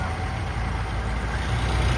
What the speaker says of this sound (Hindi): ग्रामीण काफी संख्या में ट्रैक्टरों और ट्रेलियों के साथ साथ जो वाहन है